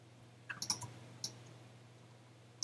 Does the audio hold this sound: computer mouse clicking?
yes